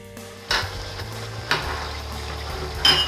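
Qeema being stirred with whole spices such as cumin and garam masala in a pan, three distinct scraping stirs about a second apart over a low, steady sizzle.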